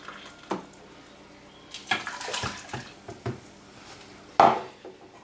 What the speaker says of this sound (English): put some quinoa in a pan and again give it a really good rinse.